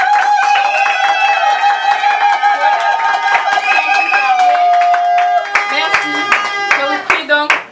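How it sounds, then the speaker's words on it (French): Wedding guests at a civil marriage ceremony clap and cheer in a dense, steady burst of applause, with a sustained tone and voices mixed in before sharp claps thin out toward the end. "manifestons-le s'il vous plaît avec des applaudissements"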